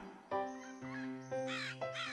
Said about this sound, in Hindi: कुछ घंटों बाद कौवा अपने घोंसले के पास लौटा।